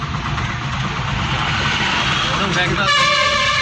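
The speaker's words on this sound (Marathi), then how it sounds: "हे बघा पूर्ण ट्रॅफिक" Heavy holiday road traffic rumbles at close range, engines droning beneath a voice, until a truck horn blares loudly near the end and sustains as a harsh, pulsing honk.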